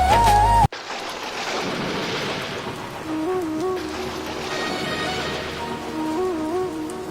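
Heavy rain pours down with a low rumble of thunder in a dramatic scene, a dense, steady hiss under tonal background music that follows a sudden cut.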